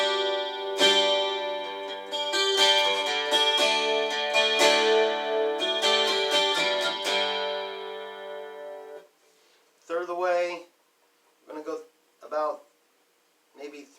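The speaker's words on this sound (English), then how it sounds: "Here's the chorus about 1/3 of the way." An acoustic guitar played through a preamp with the chorus effect set about one third up rings out in sustained strummed chords for several seconds, followed by a few short, shimmering plucked notes separated by gaps.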